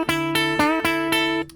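Distorted electric guitar plays a solo lick in five sharp picked phrases with sustained harmonic-rich notes and slight bends, loud and alone, then cuts off.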